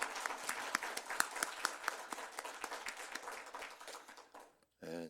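Congregation applause in a church service, a dense run of many hands clapping that fades out after about four seconds, followed by a short burst of other sound.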